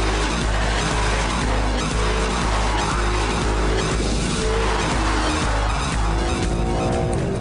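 Maserati GranTurismo engine pulling hard in sport mode, a loud, continuous roar with shifting pitch as revs climb and drop, heard from close with faint tire noise and no voices.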